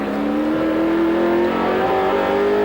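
Onboard engine note from Dick Johnson's touring race car during the 1986 Australian Touring Car Championship round at Amaroo Park, a loud steady high-revving drone whose pitch climbs through the gears, with no one talking.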